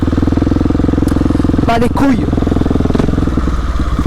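A Husqvarna 701 motorcycle engine idles loud and close with a steady, rapid single-cylinder thump throughout, and someone briefly speaks over it.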